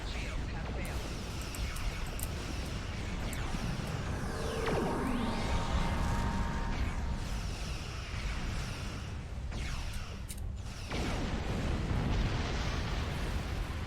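Torpedo explosions in Star Trek Online space combat, as deep rumbling blasts and bursts over a continuous roar of battle noise, with a voice talking over the action.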